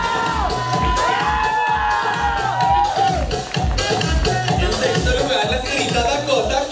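A lively audience cheers, whoops and claps for a drag show contestant in rhythmic bursts, with shouting voices close by throughout.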